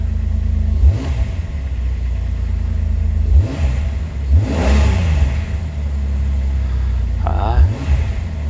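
A 2006 Jeep TJ with a 4.0 engine, after an oil pump drive assembly repair, runs at idle with a steady low rumble, broken by a few short revs, while someone talks over it.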